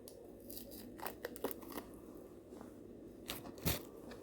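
A knife slicing pork fat (salo) into small pieces on a kitchen board gives several close, quiet crisp cuts with clicks of the blade, scattered irregularly against a low background.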